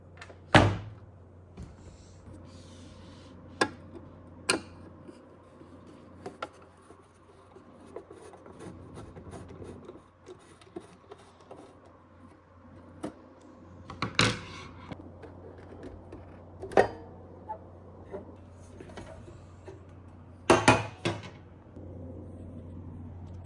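A self-diagnostic Ready-Lite emergency light unit being handled, flipped over and opened up, giving scattered sharp clacks and thumps of plastic housing with soft rubbing and handling noise between them, close and without speech.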